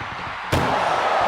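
An ambulance door slams shut in the wrestling video game WWE 2K25, one loud sharp bang after a brief quiet lead-in, followed by a sustained noisy crowd and arena wash.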